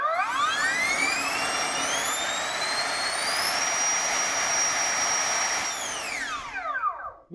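A 105mm electric ducted fan running a vertical thrust test inside a 3D-printed Harrier jet model with 122% ducting. A loud whine rises in pitch, holds a high steady scream, then spins down quickly at the end.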